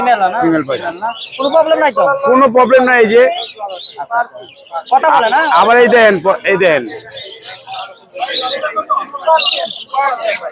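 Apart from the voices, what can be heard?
birds chirping and squawking at a bird market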